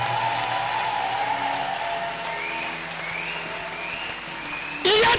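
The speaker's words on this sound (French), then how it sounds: "Où sont les acclamations?" Applause from a church congregation during a Sunday service, a steady wash of clapping for about five seconds with a brief louder burst at the very end.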